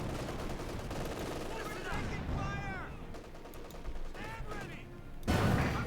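Gunfire and battle noise from Company of Heroes 2 in a Wehrmacht versus US Forces match, a continuous dense rattle of shots with a louder crashing burst near the end, mixed with game sound effects.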